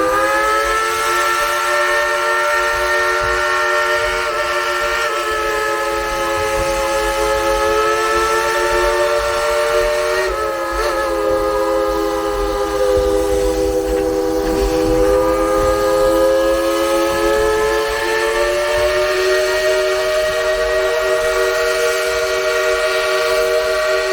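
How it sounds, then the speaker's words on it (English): Steam train whistle at Dollywood blowing one long, continuous, loud chord-like blast that holds steady for the whole stretch, with slight pitch wavering partway through. "On the count of three, we're going to tell them blow the whistle."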